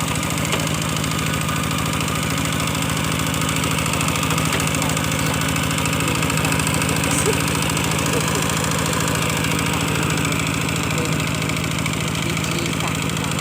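A tractor engine idles steadily in a rice field, a continuous loud low-pitched mechanical drone with a constant rumble and no pauses throughout.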